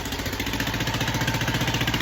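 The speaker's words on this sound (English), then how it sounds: "It is idling high right now, but it'll be all right." A mud bike engine idles high after a rebuild, a close, steady, rapidly pulsing motor drone that holds constant without revving up or down.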